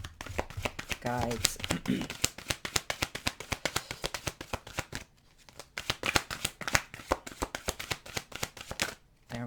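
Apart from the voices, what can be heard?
shuffling tarot and Lenormand cards and drawing one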